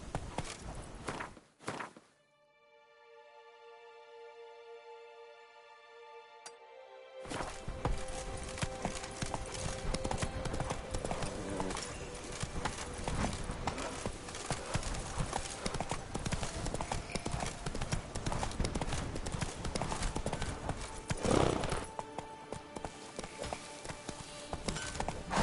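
Hooves of Roach, a horse in The Witcher 3: Blood and Wine, clop steadily on the ground in a fast, continuous rhythm, close and loud, after a brief quiet start.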